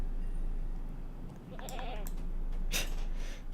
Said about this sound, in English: The goats again.